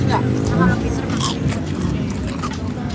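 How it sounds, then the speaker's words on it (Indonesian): Someone bites into thick, crispy fried tempeh at a café, the crunching chews coming through close up beneath continuous chatter and voices in the room. "Buat luarnya crispy banget. Ini kalian bisa dengar sendiri ASMR-nya."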